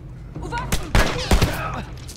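Gunfire in The Last of Us Remastered, with several sharp shots in quick succession over game ambience while someone talks.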